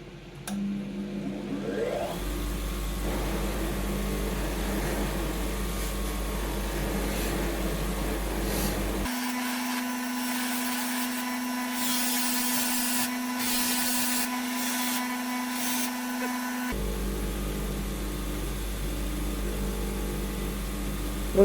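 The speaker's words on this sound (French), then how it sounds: "Le polissage du manche" Power tool polishing the handle of a stainless N690 steel paring knife, a steady loud whine that shifts to a higher-pitched tone midway, then drops back to the lower drone.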